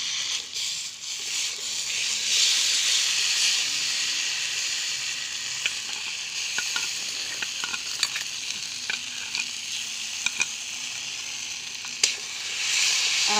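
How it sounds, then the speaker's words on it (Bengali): Poppy seed and green chili paste with chopped tomato sizzles in a pan over fried onion and chili, a steady loud frying hiss with occasional stirring clicks and scrapes, alone without talk. "এখন এর মধ্যে পোস্ত আর লঙ্কা বাটাটা আর টমেটো কুচি এর মধ্যে দিয়ে দিচ্ছি"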